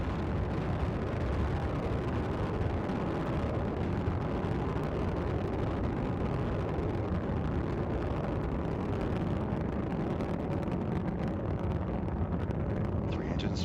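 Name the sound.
Space Shuttle Endeavour rocket engines during night launch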